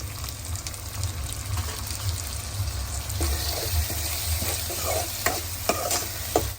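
Tomatoes sauté with onions in a hot pan for a chavanu vegetable dish, a continuous close sizzle with stirring scrapes and a few sharp clinks toward the end.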